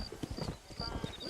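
A horse in the Red Dead Redemption game starts off at a slow walk, with soft rhythmic hoof clip-clops over faint background sound.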